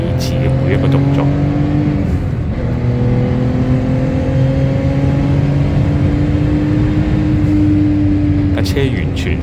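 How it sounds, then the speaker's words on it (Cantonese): An 850 hp Gunther Works Turbo race car with a manual gearbox and no traction control circles Fuji Speedway, its engine droning loud and steady with rising pitch, a brief lift around a gear change, then pulling hard again under a voice. "850匹棍波冇 traction control 嘅 Gunther Works Turbo"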